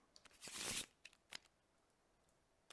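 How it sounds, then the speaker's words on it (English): A deck of engineering cards from a Battlestar Galactica board game is shuffled once in a brief riffle, with a few soft card taps after it, quiet and close. "we need to shuffle the engineering deck again"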